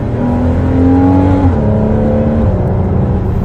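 A Porsche Cayman 981 engine revs from inside the cabin, a loud, steady engine drone that holds its pitch, then drops as the revs fall and settles at a lower, even hum.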